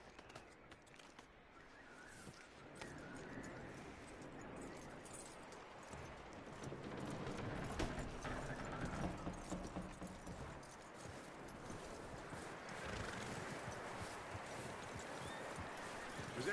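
Horse hooves clip-clop steadily in Red Dead Redemption 2, a continuous trotting rhythm set against a dense outdoor ambience that swells midway, with no voices over it.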